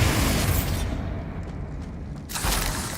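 A Bombarda blast spell in Hogwarts Legacy lands as a heavy close boom that trails into a low rumble, then a second loud burst hits near the end.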